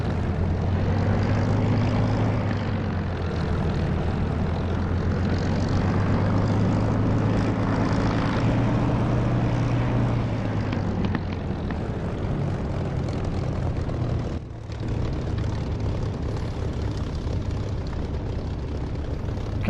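A propeller aircraft engine in the DCS flight simulator drones loudly and steadily for the whole stretch, its low tone rising slightly and then falling back, with one brief dip near the end and no talk over it.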